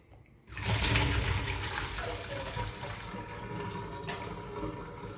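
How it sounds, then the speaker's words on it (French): Water from a pot of cooked pasta pours out in a steady, close rush, draining through a strainer into a sink for several seconds after a brief quieter start. "c'est parti pour égoutter notre pâte"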